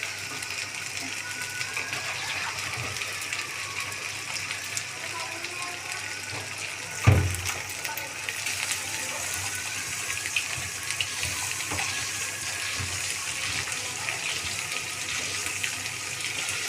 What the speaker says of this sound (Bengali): মাংসটা আপনারা একটু ধুয়ে নেবেন